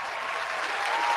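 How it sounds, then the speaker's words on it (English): A round of applause rises as a dense, even wash of many clapping hands, close and steady, growing slightly louder over its brief length. "Got to give that man a round of applause"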